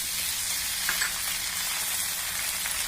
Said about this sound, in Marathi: छानपैकी परतून घ्यायचं आहे मस्त एकदम।